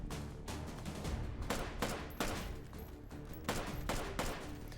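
Rapid gunfire from the VR shooting game H3VR crackles in repeated dense bursts of shots, loud and close, with short gaps between volleys.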